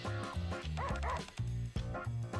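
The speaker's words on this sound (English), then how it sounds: "Volt merely continues to bark while facing the tree." Video game dog barking repeatedly at a tree, a rapid run of loud, close, yappy barks mixed with a few whiny whimpering notes.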